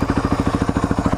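A 1997 Suzuki DR350SE single-cylinder motorcycle idles steadily on a hot day, a close, loud, even thumping pulse with a light mechanical clatter throughout.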